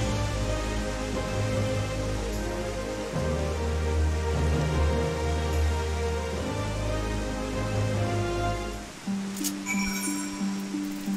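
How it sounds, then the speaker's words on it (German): Rain pours steadily in the video game Final Fantasy XIV, a dense hiss under sustained tonal game music that shifts register before fading into a quieter close. "Und hoffentlich hört dieser Regen bald auf."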